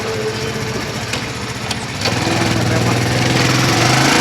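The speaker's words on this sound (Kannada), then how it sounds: "ನಮ್ಮ ಶಶಿಯವ್ರು ಬಂದರು, ಬೈಕಲ್ಲಿ ಹೋಗ್ತಾ ಇದ್ದೀವಿ" A motorbike engine runs steadily while riding, a continuous close drone with a low pulsing throb that grows louder and rougher partway through as the throttle opens.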